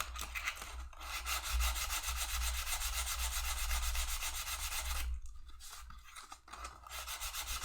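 Foam being sanded by hand with sandpaper during a crafting session, a steady, close scratchy rubbing that runs continuously before a brief pause and then resumes.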